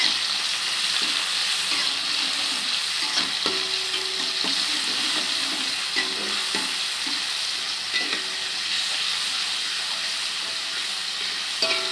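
Steady sizzling and crackling of sliced spices frying in a hot wok for stir-fried anchovies, tempeh and petai, with occasional stirring clinks and scrapes over the continuous hiss.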